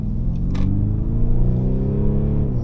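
Inside a 2024 Mercedes-Benz GLC Coupe 220d in sport mode, the speakers play a simulated engine note, a deep rumble whose pitch climbs as the revs rise, loud and steady, with a couple of brief clicks near the start.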